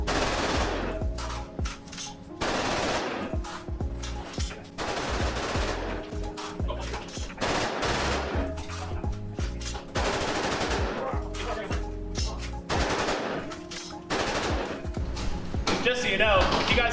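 A BCL Siberian rifle firing repeatedly during a 1000+ round stress test, loud close shots in rapid strings and clusters that keep going throughout, with people talking between and under the gunfire.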